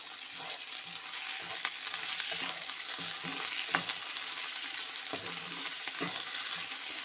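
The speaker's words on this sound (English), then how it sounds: "So we have to fry this ginger garlic paste" Ginger garlic paste fries with onions in a pan for South Indian hotel kurma, a soft, steady sizzle at moderate distance punctuated by occasional stirring scrapes and a light utensil tap.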